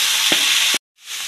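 Jackfruit rind frying in a pan with dried red chilies and curry leaves gives a steady loud sizzle with a few stirring knocks, then drops out briefly before the hiss picks up again.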